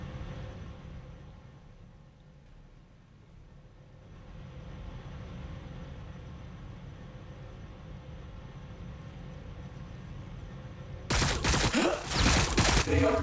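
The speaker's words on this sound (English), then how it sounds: "They are returning fire." Troops exchange gunfire in the sci-fi strategy game Warhammer 40,000: Battlesector. A low battlefield rumble drifts quietly before a sudden loud, crackling burst of rapid shots erupts near the end.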